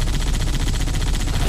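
A vehicle-mounted .30 caliber chain gun fires in the Halo game, a loud, rapid, continuous stream of shots with no break across the burst.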